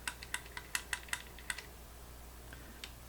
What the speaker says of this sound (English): run it back and forth with the gun cocked